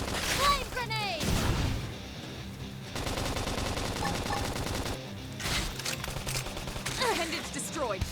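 Gunfire in the video game Xenoblade Chronicles X, with rapid sustained volleys and bursts mixed with battle effects and game music, loud and continuous, while voices call out over the action.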